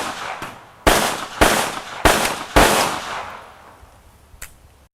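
Masterpiece Arms Mini 9mm pistol firing four sharp, loud reports in quick succession, each with a ringing tail that fades out, then a single fainter shot near the end.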